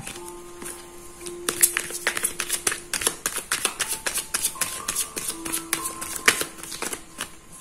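Tarot cards riffled and snapped down in quick irregular bursts, close up and fairly quiet, with soft flicks as ten cards are laid out.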